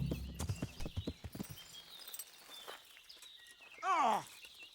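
A run of quick horse hoof clip-clops in the video game Kingdom Come: Deliverance comes first, then a short sharp whinny-like cry rings out over a quiet background.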